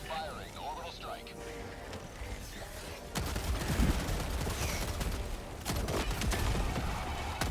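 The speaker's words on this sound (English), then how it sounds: "Firing orbital strike." An orbital strike firing in Helldivers 2, heavy booming impacts and rapid crackling blasts that swell about halfway through and keep rumbling, loud and close, with voices speaking over it.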